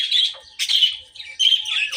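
Pet birds chirping indoors in a home, with bursts of high, bright tweets and calls in quick clusters, close and fairly loud, and short gaps between them.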